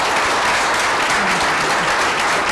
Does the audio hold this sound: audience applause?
yes